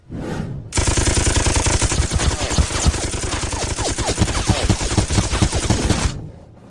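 A volley of gunfire from a line of soldiers crackles as a dense, sustained burst of overlapping shots lasting several seconds, loud and close, then cuts off abruptly.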